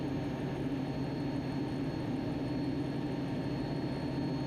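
An A-4 Skyhawk jet passes at an airshow, its engine producing a steady, dense low rumble and roar that holds at an even level throughout with no talk.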